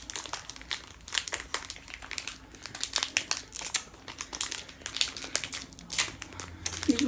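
A Pokémon booster pack from a Porygon-Z GX box is torn open, its plastic wrapper crinkling and crackling in quick, irregular bursts close to the microphone for several seconds, with no talking.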